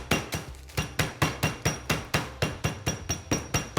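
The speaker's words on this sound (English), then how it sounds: "We're gonna bash these up just until you have a nice, smooth, crumbly mixture" Digestive biscuits being bashed into crumbs for mini lemon curd cheesecakes, a steady run of about fifteen sharp, evenly spaced thumps, close and fairly loud, with no talking.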